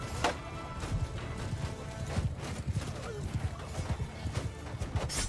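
Horse hooves clip-clop in a Mount & Blade 2 Bannerlord battle, a steady run of soft thuds under a dense din of fighting and crowd noise, with an occasional whinny.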